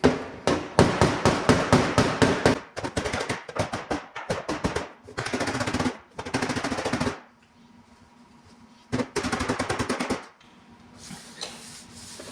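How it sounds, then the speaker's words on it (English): Hammer strikes on car body metal, working a dent out slowly: rapid runs of sharp metallic taps, loud and close, broken by short pauses and a quiet gap before a final burst. "You don't want to just go swinging your big old hammer and trying to whack the dent out in one shot."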